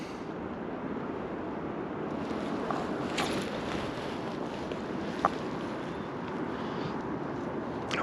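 Steady wind buffets the microphone outdoors beside a river while euronymphing for fish on a wintry day, a continuous broadband rush and rumble that stays loud throughout, with no one talking.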